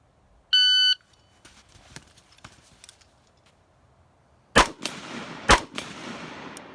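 A shot timer beeps to start a timed prone shooting drill, followed by faint clicks and two loud, sharp gunshots in quick succession, each with a trailing echo.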